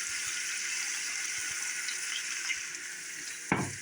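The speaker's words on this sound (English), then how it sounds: "I'm going to cook this down and make some caramelized onions for you all." Onions and garlic caramelizing in a pan give a steady, even sizzling hiss throughout, with one soft knock near the end.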